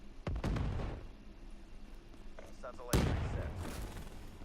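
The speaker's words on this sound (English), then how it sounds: "He gets shot in the back because he's really good at that too." Video-game gunfire strikes a player in the back, with a few heavy thumping shots and a sharp impact burst near the end over a dense, busy background.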